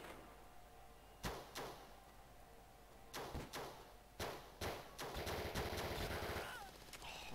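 Gunfire in Call of Duty Modern Warfare 3 on the DS, in online Gun Game mode, comes as a series of sharp shots, some single and some in quick bursts, with a denser volley of fire toward the end.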